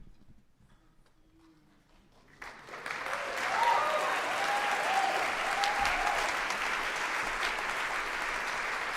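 Applause from the audience at a New Year's Day poetry marathon, rising out of near quiet into a full, sustained clapping crowd that stays steady to the close.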